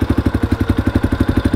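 A Raptor 250 quad engine runs close by at a steady, fast, throbbing idle, with evenly pulsing beats and no voices over it.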